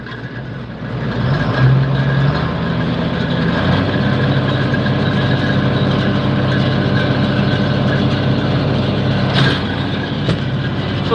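A farm tractor runs with its power take-off engaged, making a loud, steady, low-pitched engine drone with a constant mechanical hum. The sound stays even throughout, with no voices.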